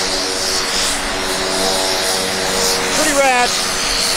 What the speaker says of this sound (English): every time you roll, something awesome like an airplane rolls up